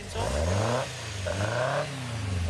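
A Westfield kit car's engine runs steadily close by, a low, rumbling hum that swells slightly with a couple of gentle rises in pitch, with no talking over it.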